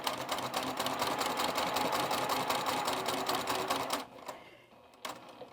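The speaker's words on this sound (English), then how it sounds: "I'm going to start at the very edge of my square and then sew until I get to the very end." A sewing machine stitches a fabric square with confetti thread from edge to end, a close, rapid, even rattle lasting about four seconds before cutting off, followed by a couple of faint clicks.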